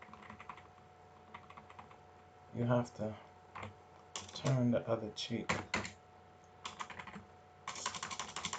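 Someone types on a computer keyboard in bursts of quick, crisp key clicks, close by, interleaved with a speaking voice.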